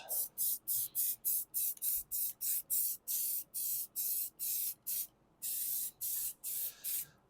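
An aerosol spray paint can laying a base coat onto a wheel, heard as a close, rapid series of short hissing bursts in a steady on-off rhythm, with one longer spray near the end.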